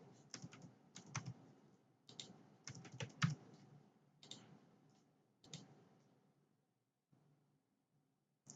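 Typing a card number on a computer keyboard, irregular clusters of quiet close key clicks with short pauses between groups, no talking.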